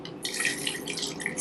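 Soaking water being strained off nuts and seeds, a steady close trickle and splashing pour that runs without a break and swells louder right at the end.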